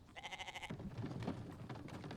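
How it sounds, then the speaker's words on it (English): A sheep bleats several times in quick succession in a survival video game, a wavering bleat up close, followed by shuffling game sounds and clicking underneath. "Ooh, sheep."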